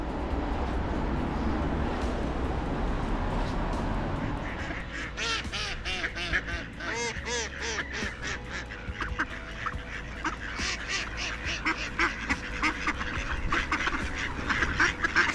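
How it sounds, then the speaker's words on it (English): A flock of ducks at the seaside in winter quacks and honks in a busy, overlapping chorus, loud and close, with calls growing denser after a windy opening. "Sorry ducks, got no food."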